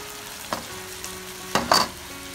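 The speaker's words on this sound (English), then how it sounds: "let the saltfish fry up with the seasoning" Saltfish fries with seasoning for Jamaican ackee and saltfish, a low steady sizzle broken by a few sharp scrapes and clatters of stirring in the pan.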